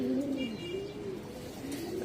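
Racing pigeons of an old breed give a low, rolling coo that repeats in a soft, continuous warble, close and moderately loud.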